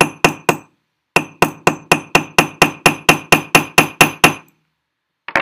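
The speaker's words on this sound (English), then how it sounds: "I'm going to work with my riveting hammer" A riveting hammer strikes a tube rivet in sharp, ringing metallic blows: three quick hits, a pause, then a steady run of about thirteen evenly spaced strikes, loud and close, with one more tap at the end.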